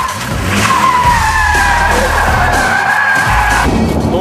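An Audi RS6 skids hard, its tires squealing in a long wavering screech over a roaring engine, loud and close throughout.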